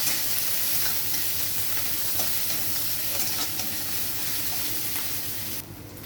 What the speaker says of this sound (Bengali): তেল গরম হয়ে গেছে, আমি আদা রসুনের পেস্টটা দিয়ে দেবো। থেতো করে রাখা আদা রসুন দিয়ে দিলাম।